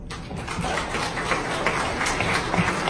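A lecture audience applauds at the end of a talk, a steady wash of many hands clapping at moderate loudness, continuous and somewhat distant throughout.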